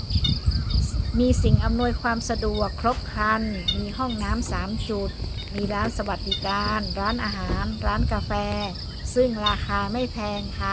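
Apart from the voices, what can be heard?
crickets and cicadas chirping with birds at a forest campsite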